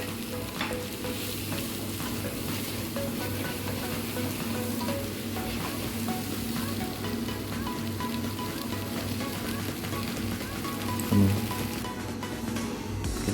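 Sliced onions frying in soybean oil with garlic and ginger paste, bay leaf, cloves and cardamom for a papaya beef dish, a steady, close crackling sizzle with stirring scrapes throughout and one louder knock near the end.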